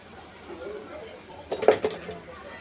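A spoon scrapes and clinks against a pot of potato curry being stirred, a short cluster of metallic knocks midway through, with a soft background hum and a voice speaking at low level.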